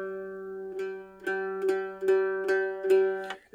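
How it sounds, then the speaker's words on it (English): A mandolin is strummed gently with a loosely held, flexible pick, producing a soft repeated brushing pattern of bright, ringing strokes over a sustained open tone, quiet and close. "the goal is to let the pick move as it brushes across the string"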